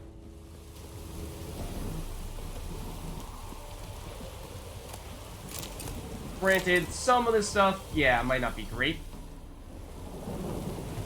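Thunderstorm with rain in The Witcher 3, heard at a large camp: a steady rain-like wash runs throughout under a man's speech, with a cluster of loud rumbling, crackling bursts in the middle.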